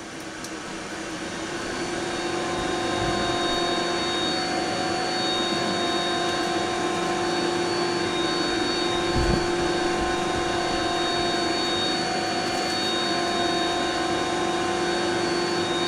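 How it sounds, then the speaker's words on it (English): A steady, loud mechanical whine and hum carries on without a break as an aircraft's electric boarding stairs retract, with no speech over it. "That's the noise of the electric stairs coming up."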